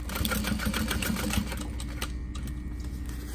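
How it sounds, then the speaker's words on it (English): A sewing machine stitches diagonally across a barrel bag, a steady close rapid whir of needle strokes that runs for over a second and then gives way to a quieter hum with light handling noises. "sew diagonally across."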